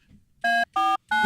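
Three short, evenly spaced electronic tones sound close and loud as a phone call is placed, each bright and buzzy and lasting about a fifth of a second.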